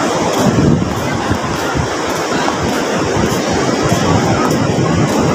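Big storm-driven ocean waves surge and crash continuously at a crowded shore, loud and close, with heavy wind buffeting the microphone and no speech.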